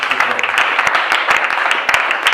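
A church congregation applauds in a quick burst of irregular clapping, fairly loud and close, with voices mixed in.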